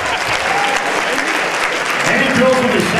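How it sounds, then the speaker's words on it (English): A crowd at a vinyl night applauds their DJ, close and loud continuous clapping mixed with cheers and voices over the whole short stretch. "Give Randy a round of applause."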